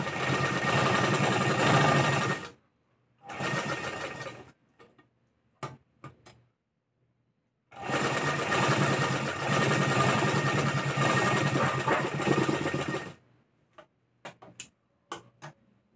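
Sewing machine running steadily while stitching a blouse, with two long continuous bursts of fast mechanical clatter separated by short pauses and scattered clicks, close and loud, no talk.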